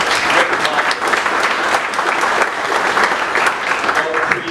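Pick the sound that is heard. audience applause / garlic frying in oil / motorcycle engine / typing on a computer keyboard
audience applause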